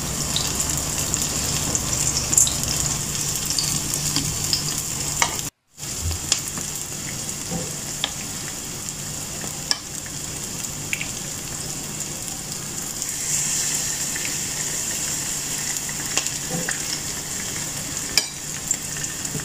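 Green and red chilies frying with dried fish in a pan give a steady, close sizzle that runs throughout, broken by one brief silent gap and a few small clinks from stirring.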